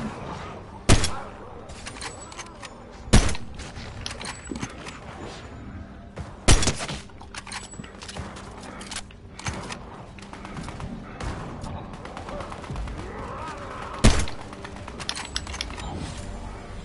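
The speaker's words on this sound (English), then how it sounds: "I fired one shot, and you could hear the gunshot, and then, like, another shot" Gunfire in the Fortnite video game: several sharp, loud single shots ring out a few seconds apart over a busy background of game sounds and faint chatter.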